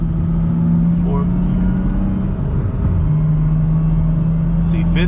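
Engine of a BMW 435i pulling hard while accelerating through 4th and 5th gear. A steady loud drone with a rising tone fills the whole stretch, and a faint voice sounds now and then underneath.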